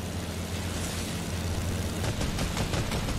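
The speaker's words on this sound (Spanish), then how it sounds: "es que escuchan disparos aquí" Dense, rapid Fortnite gunfire crackles over a constant noisy roar, bursts of shots piling up loud and close toward the end.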